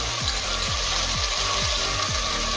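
Tomato and green chilli paste frying in chicken curry masala, a steady close sizzle and hiss with repeated low scraping strokes of a spoon stirring through the pan, no voices.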